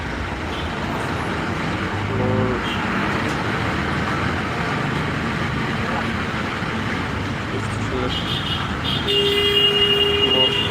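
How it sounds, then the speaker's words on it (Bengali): Roadside traffic jam of cars and buses beside a town in Bangladesh, heard as a dense steady rumble of engines with faint voices mixed in and a higher horn or whine near the end. "শহরটা আসলে রাস্তার পাশে তার কারণে এরকম জ্যাম হয় প্রতিদিন জ্যাম সৃষ্টি হয়"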